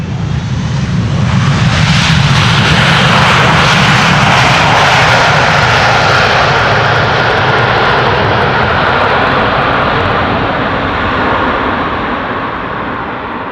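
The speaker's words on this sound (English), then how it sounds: "The reversers are loud and the wind is blowing the sound this way." Delta wide-body airliner landing on Schiphol's runway 18R, its thrust reversers roaring loud and close in a sustained rumbling blast that swells, holds for several seconds, then slowly fades as the jet slows, with no voices.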